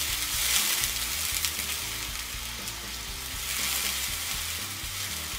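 Lentils with turmeric, chili powder and water added are stirred in a pan for a pumpkin and pui saag dal, giving a continuous sizzling hiss with soft scraping stirs and no talking.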